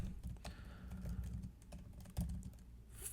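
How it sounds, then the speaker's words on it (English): Typing on a computer keyboard, a quick close patter of light key clicks in short uneven runs, quiet and without speech. "if I could type here"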